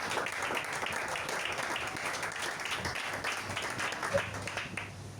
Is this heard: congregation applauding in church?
yes